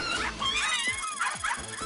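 A virtual dog in the PlayStation VR Playroom game gives a few short high yips and whimpering barks in quick succession, fairly faint and clear of talk.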